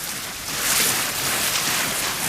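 A yacht sails on a bay near Nakhodka, with steady broadband rush of wind and water against the hull for a couple of seconds, fairly quiet and with no voices.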